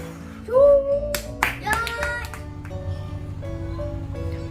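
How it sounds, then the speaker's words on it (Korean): A few people clap briefly at a family New Year's gathering, scattered hand claps over a room with tonal background music or voices, fairly close and short-lived. "박수"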